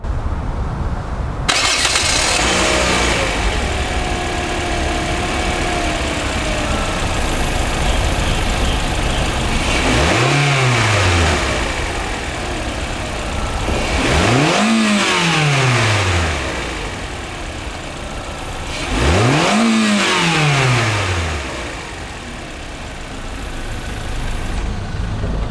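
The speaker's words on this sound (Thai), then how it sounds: "มาฟังเสียงเครื่องยนต์กัน" Toyota Corolla Altis 1.8 Esport Nurburgring Edition engine starting, then revved three times, each rev swelling up and falling back to idle, loud and close with a steady idle between.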